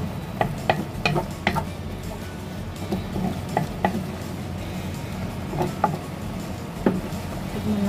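Corned beef and bitter gourd cooking in a pan, a steady sizzle and fry with repeated scraping stirs at irregular intervals, close and moderately loud, no talking.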